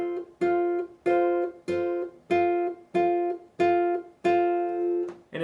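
On guitar, a three-note chord is plucked together eight times at a slow, even pace, each pluck ringing briefly before the next, played alone.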